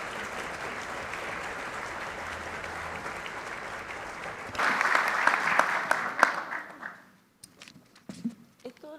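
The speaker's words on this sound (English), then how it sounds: "So please give her a round of applause." Audience applause at the InvestChile 2022 business forum, a steady room-filling clapping that swells and then tapers off. A voice speaks faintly underneath and continues briefly after the clapping ends.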